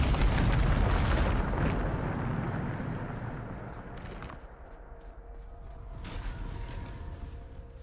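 A Bombarda spell explodes in Hogwarts Legacy with a loud, rumbling boom that rolls on for a couple of seconds, then fades into lingering debris and softer crackles, followed by a second, weaker surge.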